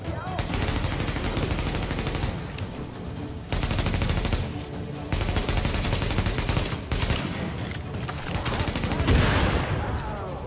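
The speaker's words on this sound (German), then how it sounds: "Ah, sehr schöner Schuss" Loud, sustained automatic gunfire from The Division on PS4, with rapid bursts rattling almost nonstop and only brief breaks between volleys.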